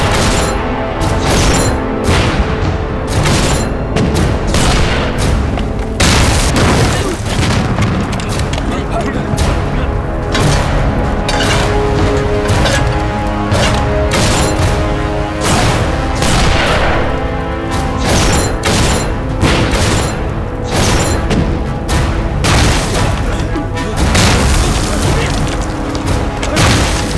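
Bombs blasting during a war-film battle between Japanese troops and Eighth Route Army soldiers, a dense, continuous barrage of heavy booms and crashes lasting throughout, loud and overlapping, with voices shouting underneath.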